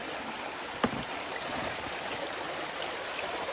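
A rushing stream at Nugget Lake, Wisconsin, roars steadily and broadly, with a single faint click early on.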